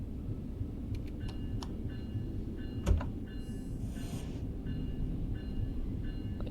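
Rotem cab car train in a simulator descending a steep gradient into a station, a steady rolling rumble with a sharp clunk, faint high squeals and a brief hiss.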